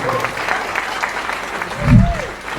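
An audience at a Gujarati comedy roast show gives a short burst of clapping that mixes with a host's voice and a low thump near the end.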